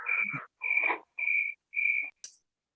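Giant cricket giving four sharp, whistle-like chirps in an even rhythm with short silent gaps and a brief high squeak at the end, close and clear against silence.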